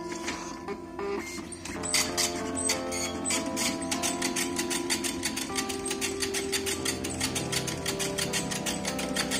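An Olivetti PR2 printer prints a test page. After a brief quiet start, close mechanical print-head chatter comes in rapid rhythmic bursts and carries on steadily.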